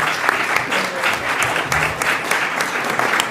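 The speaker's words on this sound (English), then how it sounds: "I think we need to give them a unanimous round of applause for their hard work." An audience at a Senate committee hearing claps in a steady burst of applause, dense and close, with a faint murmur of the crowd underneath.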